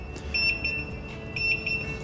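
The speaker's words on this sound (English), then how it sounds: "press the alarm button and you can check which alarm is active" Alarm buzzer on a 110 kg Tolkar industrial textile washing machine, a shrill electronic tone sounding in two clusters of short repeated beeps over a low machine hum.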